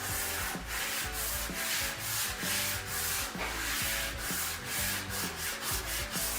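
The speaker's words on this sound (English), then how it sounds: "the little block of wood and the sandpaper, going over this" Sandpaper wrapped around a small wooden block is rubbed by hand over furniture being refinished, giving steady back-and-forth scratchy strokes at an even rhythm, close and fairly quiet, with no talking.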